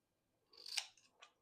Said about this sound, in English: I'm going to trim this up.